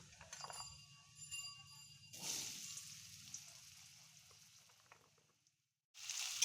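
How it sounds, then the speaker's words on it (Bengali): Potatoes drop into hot oil that has just fried pangas fish, setting off a loud, close sizzle that bursts up, holds steady and then fades before flaring again at the end. "এবার আমরা তেলে দিয়ে দেবো আলু।"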